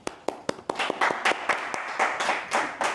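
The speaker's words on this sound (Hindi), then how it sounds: "एक बार इन दोनों के ताली बजा दें" Wedding guests clap for the couple during a Hindu ceremony, a steady round of close hand claps that grows into a fuller burst of applause for a few seconds.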